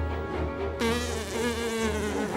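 A fly buzzes loudly and steadily close by, with a thin, wavering drone that grows more intense partway through and carries on without a break.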